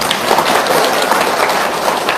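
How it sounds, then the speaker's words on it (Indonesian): Audience applause at an evening gathering, a dense steady wash of many hands clapping together at close range, continuous for a couple of seconds without talk. "Tepuk tangan dulu dong."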